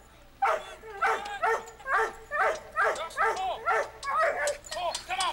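A dog named Dawson barks repeatedly in a quick, uneven series at a weight pulling competition on Vancouver Island, British Columbia, the yelping barks fairly close and dominating over faint background noise.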